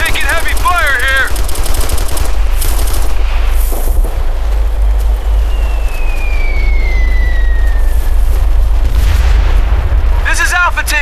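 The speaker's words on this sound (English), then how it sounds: "We're taking heavy fire here." Sustained heavy machine-gun and rifle fire with booming blasts in the video game Operation Flashpoint Red River, loud and continuous throughout, with shouted voices briefly at the start and end.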